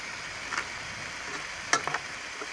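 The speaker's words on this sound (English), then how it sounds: "Stir it in." Mushroom sauce being stirred into chicken in a pan, a low steady sizzle under a few soft scraping strokes and clacks of the utensil near the end.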